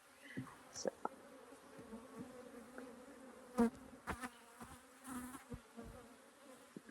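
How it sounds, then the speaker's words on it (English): Bees buzz steadily and close by around an open hive during an inspection, a dense droning hum with individual insects flitting past in brief louder passes. "bees are really interested in the camera as well."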